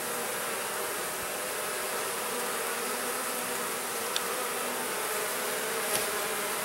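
Honeybees buzz in a dense, steady drone around an open hive, close and continuous for several seconds with a couple of faint clicks and no talk.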